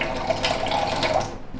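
Water pours and splashes steadily over oily skin to dissolve the oil, a continuous close rushing stream for under two seconds, then tapering off; no talking.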